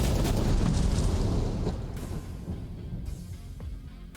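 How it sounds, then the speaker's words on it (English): Mining blast in the Out Of Ore video game, a loud rumbling explosion that rolls and slowly fades into debris noise, with a couple of faint later thumps. "We'll add a little bit of explosion in there just to bring some dirt and some pay dirt in just to help us out."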